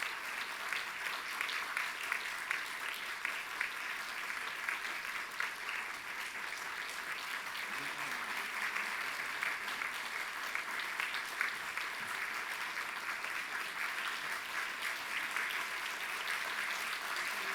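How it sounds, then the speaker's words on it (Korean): Sustained applause from a church congregation during a flower bouquet presentation, an even, continuous roar of many clapping hands heard at moderate distance for the whole stretch. "꽃다발 증정해 주실 때 큰 박수로"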